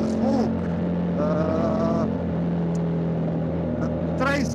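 A 2024 Triumph Tiger 900 GT Pro motorcycle engine runs with a steady, close mechanical drone, and someone talks over it throughout.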